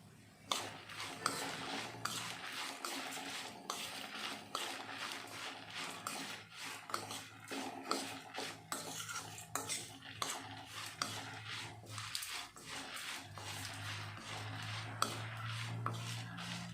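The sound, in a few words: frying spices and coconut, stirring in a pan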